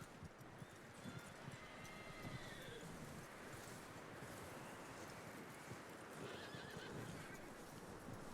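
Horses whinny and neigh in Red Dead Redemption 2 over rustling hoofbeats and outdoor ambience, moderately loud with a few distinct calls spread across the clip.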